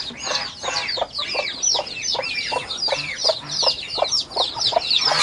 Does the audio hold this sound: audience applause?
no